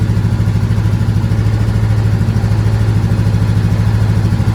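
A Voge 500DS motorcycle engine runs steadily at idle, a loud, close, even pulsing drone that holds without any revving.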